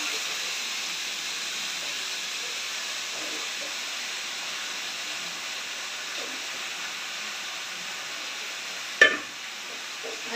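Pumpkin, potato and chickpeas fry steadily in a pan with a continuous soft sizzle and hiss, and one brief clink of a utensil near the end.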